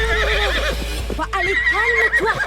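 A horse neighs loudly and angrily in a rising, quavering whinny, then calls again after a short pause, with a calm voice soothing it in French between the cries.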